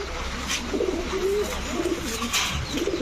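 A red khaki male pigeon coos in low, rolling phrases, repeated several times over a steady background hiss from a pigeon farm.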